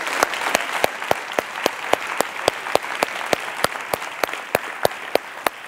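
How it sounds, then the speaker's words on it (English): A theater audience at a science event applauds, with a soft crowd wash under sharp, evenly spaced close claps repeating about three times per second. "I think all 5 of these scientists deserve a huge round of applause"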